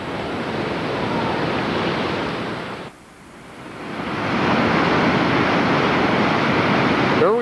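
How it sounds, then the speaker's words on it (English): Whitewater river rapid called Double Z, a loud broadband rushing roar of churning water that briefly drops away, then surges back stronger and steady, close to the microphone. "Here we are at Double Z, our most dangerous and technical rapid"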